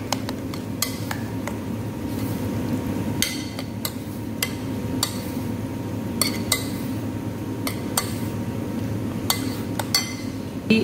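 A spoon clinks and scrapes against a bowl in irregular, repeated taps while stirring yogurt for bottle gourd raita, set against a low steady background hum.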